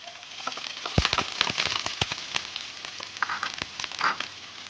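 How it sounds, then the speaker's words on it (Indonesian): Shallots sizzle and crackle in hot oil in a pan for Korean-style egg fried rice, a dense stream of sharp pops and spatters, close and steady with no talk. "Sekarang akan saya masukkan bawang merah"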